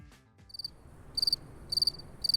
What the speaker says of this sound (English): There are crickets here,